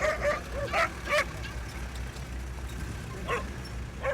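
Two Azawakh sighthounds bark and yip as they gallop up to a camp, a few sharp barks close together at the start and a couple more near the end, over a steady outdoor background.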